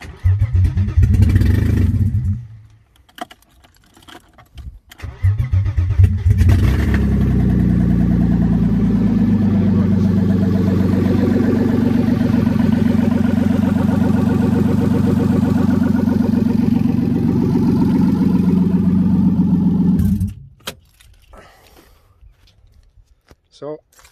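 A loud BMW E36 M50B30 stroker engine, running with no exhaust, starts for the first time, sputters, then settles into a harsh, steady roar for about fifteen seconds before cutting off abruptly.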